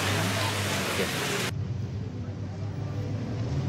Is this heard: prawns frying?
no